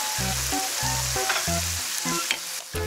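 Chopped onion sautéing in a pot after garlic, a steady hiss of sizzling oil running throughout with occasional stirring scrapes, heard alongside rhythmic background music.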